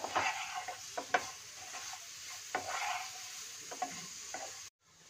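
Sweet potato chaat with rock salt, black pepper and chili flakes is stirred in a pan, with soft scraping strokes and light sizzle at close range, ending in a sudden cut.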